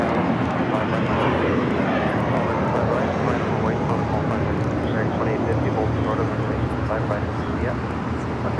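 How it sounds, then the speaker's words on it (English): Qantas Airbus A380 arriving on the north side at Los Angeles LAX, a steady, broad jet roar heard beneath ongoing talking. "Qantas, the A380 is the next arrival on the north side."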